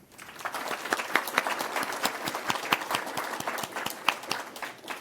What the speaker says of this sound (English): And a round of applause for the Cape Breton Community Housing Association